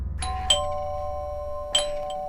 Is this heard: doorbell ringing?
yes